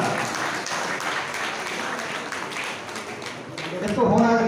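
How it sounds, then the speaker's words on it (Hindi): An audience at a Gorkhali Sudhar Sabha gathering applauds for a student's exam results. The dense, steady clapping fills the room throughout, and a voice begins speaking over it near the end. "ताली बजाउनु होला"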